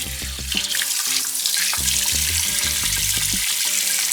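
Water runs steadily from a tap into a sink, a continuous close hiss and splash, with low clunks of tools being rinsed and handled underneath.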